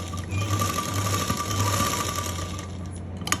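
A sewing machine stitching gum elastic lace runs with a close, steady mechanical whir and rapid needle chatter, then stops with a small click at the end.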